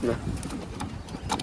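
A pigeon coos softly close by in short throaty calls, with faint background noise.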